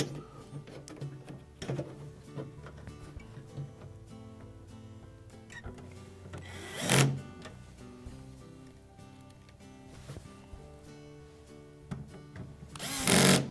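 A power drill drives two mounting screws into the bracket on an Amana refrigerator, a steady whirring hum with two loud bursts where the motor strains as each screw snugs tight, close up and with no talking.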